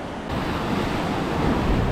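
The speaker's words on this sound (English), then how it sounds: "Whoa, that was a good splash." Water crashing from a rapids ride at Plopsaland theme park, a sudden loud surging rush that swells and holds as continuous splashing and roaring spray.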